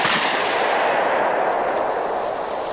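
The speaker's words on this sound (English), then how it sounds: "So let's shoot the gun," A single loud handgun shot fires right at the start, a sharp close crack followed by a long echoing rumble that slowly fades outdoors.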